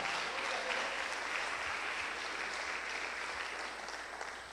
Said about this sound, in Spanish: Dale el mejor aplauso a su bendita palabra.